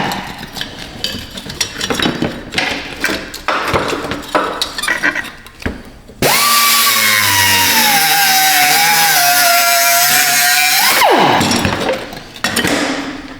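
A power tool cuts off an exhaust hanger during a cheap exhaust repair: metallic clanks and scraping first, then a loud, steady high whine for about five seconds that winds down abruptly, close and harsh.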